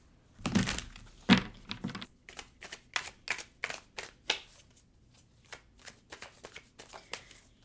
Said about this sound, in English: I'm going to pull a card on this.